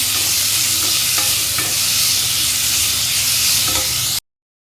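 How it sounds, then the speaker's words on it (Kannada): Tomato being fried in a pan for egg palya, a steady loud sizzle with a few soft stirring clicks of a spatula, no voices, cutting off abruptly at the end. "ಇದನ್ನು ಒಂದು ನಿಮಿಷ ಫ್ರೈ ಮಾಡ್ಕೊಳ್ಳೋಣ"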